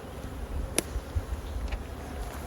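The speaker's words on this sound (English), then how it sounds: "There's a ton of bees in the hive." Honey bees buzz around an open hive during an inspection, a steady, moderately faint drone with a few individual bees passing nearer, no speech.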